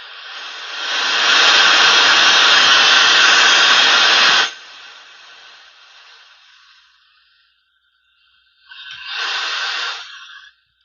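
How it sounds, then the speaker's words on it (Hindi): A repaired car stereo tuned to FM radio gives off loud, steady static hiss for about four seconds. The hiss then fades to a faint trail, followed after a pause by a short second burst of noise. "एफएम का आपको साउंड सुनाई दे रहा होगा।"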